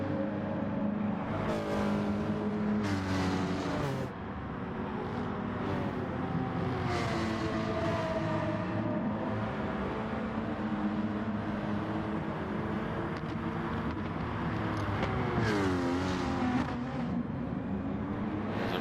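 A race car engine during a race, with sustained revving and repeated gear-change surges at steady volume from inside the car, moving through corners while tires work hard.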